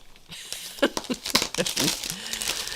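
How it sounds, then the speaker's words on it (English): A small plastic bag holding craft supplies crinkles and rustles close by in a quiet indoor room, in irregular bursts of handling with short crisp crackles. "that is all my stuff stuck in a little plastic bag"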